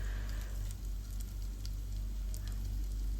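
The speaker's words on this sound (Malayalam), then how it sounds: "എല്ലാം കൂടി നല്ലതായിട്ടൊന്ന് വഴറ്റിയെടുക്കുക." Onions and green chillies sautéing in a pan for a Kerala-style breadfruit curry, a steady soft sizzle with faint crackles running throughout, no talk.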